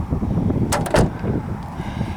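Closing a Chevy HHR door with a loose check strap makes a short burst of clunks and knocks in the middle, close and fairly loud, then a quiet background.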